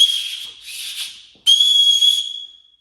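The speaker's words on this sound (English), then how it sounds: "an adjustable sternum strap that actually has a built-in whistle" A shrill whistle built into a backpack's sternum strap is blown twice, each blast sustained about a second and piercing, close by with nothing else around it.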